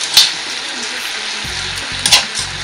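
Onions sizzle and fry in a hot pan in a Filipino home kitchen, a steady crackling hiss throughout with a few brief clatters and low thumps from the cookware.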